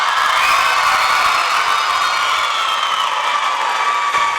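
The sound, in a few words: crowd cheering at high school volleyball match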